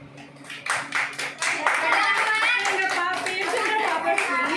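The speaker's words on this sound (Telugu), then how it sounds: "Claps claps." Sharp, irregular hand claps come in bursts, first scattered and then thicker and steady, mixed with a clatter of voices and tonal chatter from several people close by.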